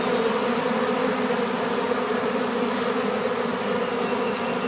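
Honeybees beat their wings hard while clustering at a newly found swarm site, producing a dense, continuous buzzing drone that holds steady and close throughout.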